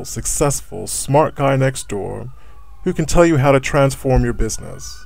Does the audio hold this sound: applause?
no